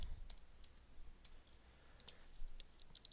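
Quiet typing of HTML code on a computer keyboard, scattered soft key clicks with short gaps, faint and close, no voices.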